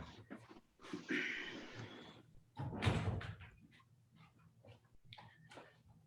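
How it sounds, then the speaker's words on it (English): Dog in a home office scratching and bumping at a door, wanting out, with a couple of short bursts of noise and a thud amid scattered shuffling and faint knocks. "That was my dog wanting to go out of the office"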